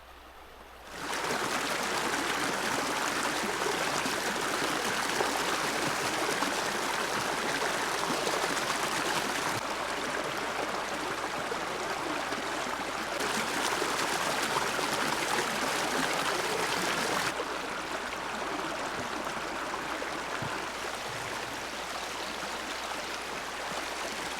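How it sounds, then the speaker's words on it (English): A small creek tumbles down out of the woods beside a canoe portage trail in Temagami, a steady, close, broadband rush of flowing water that runs alone and unbroken, easing slightly in level partway through. "right out of the woods is another beautiful little creek just tumbling down."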